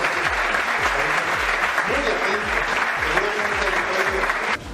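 An audience in Guerrero claps in steady applause throughout, with a voice speaking over it and the clapping continuing to the end.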